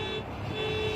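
A car horn sounding in a JDM drift driving video game, one steady sustained toot held for about a second, clear and alone.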